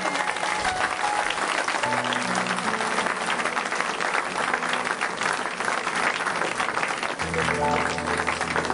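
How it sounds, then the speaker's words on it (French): A church congregation bursts into sustained, dense applause and cheering that fills the space steadily from start to finish, loud and close with no pause. "Au nom de Yeshua, on acclame le Seigneur de gloire."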